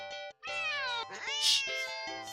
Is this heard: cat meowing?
yes